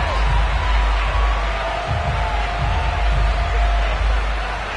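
Broad stadium crowd roar in an EA Sports NFL game at a sold-out Bills versus Houston Texans matchup, a steady dense wash of cheering with faint whistles and low thumps throughout.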